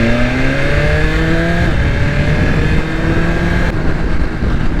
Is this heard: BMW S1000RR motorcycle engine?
yes